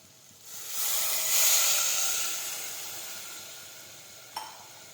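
A sharp burst of sizzling and hissing as water hits hot spices in a pressure cooker, loud at first then slowly fading, with a small clink near the end, while cooking an eggplant, potato and pigeon pea curry.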